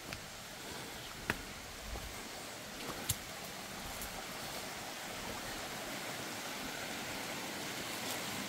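A river flows in a steady broadband rush of water, constant and fairly close, with a couple of faint sharp clicks near the start and no voices.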